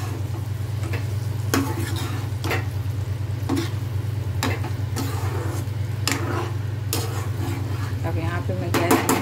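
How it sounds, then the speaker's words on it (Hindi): A spoon scrapes and stirs dry cluster bean and potato bhaji with fresh coriander in a pan, in repeated brisk strokes over a constant low hum, close and clear. "इसमें मैं थोड़ा हरा धनिया ऐड करूँगी और इसे अच्छे से मिक्स कर"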